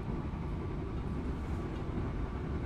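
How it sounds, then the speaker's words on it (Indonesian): Ranggajati economy-class train rolling at about 95 km/h while an airport train passes the other way, a steady, close, broadband rumble of wheels and carriage noise with no voices. "Berpapasan dengan kereta Bandara Bias ya, Bandara Adi Sumarno."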